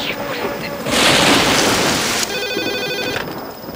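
A telephone rings with a repeated electronic trill during a heavy rainstorm, with loud rain and rumbling thunder filling the background.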